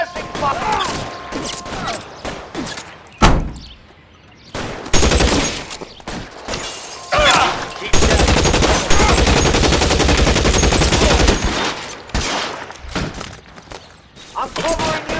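Heavy suppressing gunfire in L.A. Noire, loud bursts of automatic fire and thudding shots repeating through most of the stretch, with shouted voices breaking in between volleys.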